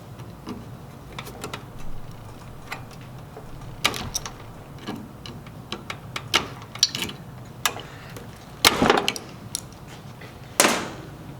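Removing two 5/16-inch nuts from the transformer of a Star two-sided grill, with sporadic metallic clicks, ratcheting ticks and small clanks over a low background hum, close and irregular.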